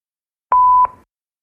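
A single clean electronic voicemail recording beep sounds once, steady and mid-pitched for about a third of a second, then cuts off into silence.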